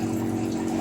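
A water purifier's motor running indoors gives a steady low hum with a faint watery gush layered on top, unbroken and close for under a second.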